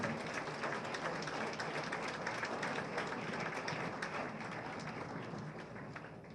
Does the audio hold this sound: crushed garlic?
no